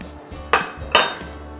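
Two sharp clinks of a utensil against a bowl while flaxseed flour is mixed with almond flour, baking powder and xanthan gum for a keto rosemary bread, close and bright over light background noise.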